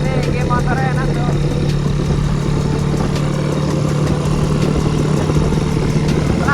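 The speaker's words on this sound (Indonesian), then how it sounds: "geber dulu, geng. Enak tuh suaranya, enak banget gitu." A motorcycle engine runs steadily at a low, throaty idle with slight revving, close and loud throughout, while people talk over it.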